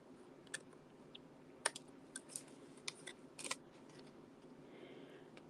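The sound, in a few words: cutting foil sheet strands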